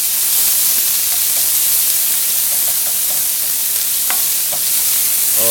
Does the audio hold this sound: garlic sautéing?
yes